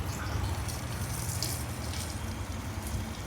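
Tap water runs steadily as a motorcycle air filter is rinsed beneath it, a continuous close splashing and gushing that stays even in level throughout.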